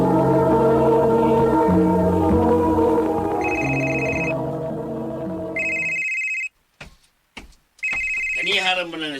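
A cellphone rings in a domestic drama scene, a repeating electronic trill that begins mid-clip over background music and voices, then keeps ringing alone in short bursts with gaps of silence between them.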